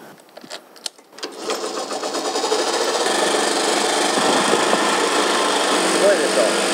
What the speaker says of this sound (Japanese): これが旅の原付き